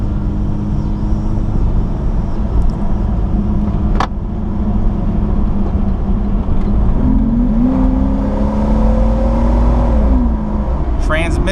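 A smooth, steady engine hum from inside a moving lifted Jeep Cherokee XJ Sport, with a low drone and occasional gear-shift changes in pitch.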